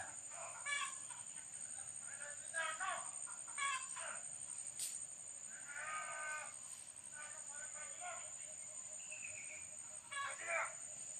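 Several wild junglefowl cluck and call intermittently at a distance, faint short bursts over a quiet outdoor background with a steady high whine.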